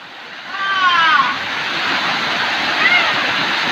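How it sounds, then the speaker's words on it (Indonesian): A waterfall roars with steady, loud, dense rushing water at close range at a hidden natural site in Indonesia, with brief voice sounds over it. "Ini air terjun yang kedua pemirsa"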